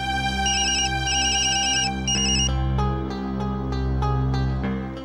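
A phone ringtone plays loudly and continuously, a bright repeating electronic melody with no talking.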